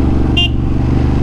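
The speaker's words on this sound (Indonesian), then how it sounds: "Oke, klaksonnya seperti itu." A Ducati DesertX motorcycle gives one short, sharp honk of its horn over the steady low rumble of its idling engine, close by.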